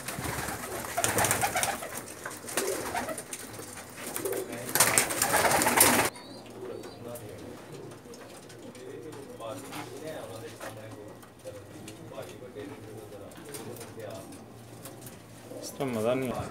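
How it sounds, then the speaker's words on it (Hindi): Pakistani pigeons coo inside closed lofts on a rooftop in Jeddah, soft repeated throaty calls running throughout, while someone talks loudly at the start and again near the end. "कबूतर सारे माकड़ों में बंद है"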